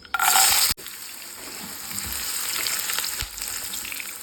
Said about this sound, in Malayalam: പക്ഷെ നമ്മൾ ബദാമും കൂടി ഇട്ട് കൊടുക്കണം പൊരിക്കാനായിട്ട്